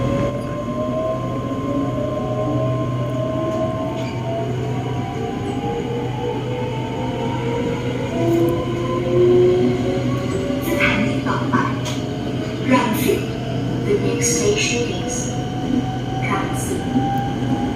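An SRT Red Line electric commuter train runs toward Rangsit, a steady loud rumble with rising and falling motor whine and occasional squeals from the wheels throughout.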